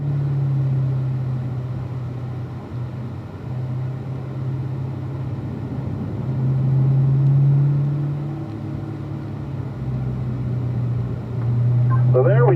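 A race car drives laps around a track with cones marking turns and a pit road entrance, its engine a steady loud in-car drone that swells and eases with acceleration, while someone talks throughout.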